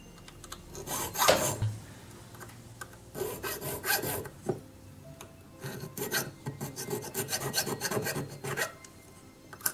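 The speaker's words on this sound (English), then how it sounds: "Now I'll go over those cuts with my three square file." A three square file rasps over cuts in a silver ring in quick, repeated close strokes, short scraping bursts that speed up toward the end.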